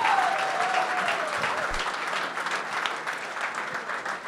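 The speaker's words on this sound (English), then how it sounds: "Let's give him a round of applause," A crowd at a startup event breaks into sustained applause, dense clapping that holds steady and then eases slightly, with a faint tone at the start and no clear speech.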